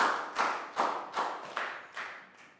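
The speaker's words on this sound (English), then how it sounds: "Big round of applause for that." A small group of children in a classroom claps, giving about six separate bursts of applause in an even rhythm, close by and fading a little toward the end, no talking.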